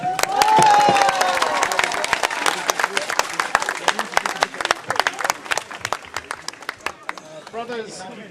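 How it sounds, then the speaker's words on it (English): Crowd applause at a Stand up for Palestine solidarity rally in Wakefield, with sharp, distinct claps from many hands carrying on for several seconds and a few cheers early on. An outdoor crowd is heard at moderate distance. "let's have a round of applause for him"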